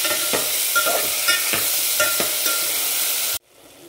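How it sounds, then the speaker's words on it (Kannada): Mushrooms with a little salt frying in oil in a pan give a steady, loud sizzle with regular stirring scrapes, then stop abruptly near the end, leaving quiet room tone. "ಮಶ್ರೂಮ್ ಈ ಥರ ಫ್ರೈ ಮಾಡುವಾಗ ನೀರು ಬಿಡುತ್ತೆ, ಇದು ಮತ್ತೆ ನೀರು ಹಿಂಗೋವರೆಗೂ ಫ್ರೈ ಮಾಡಬೇಕು."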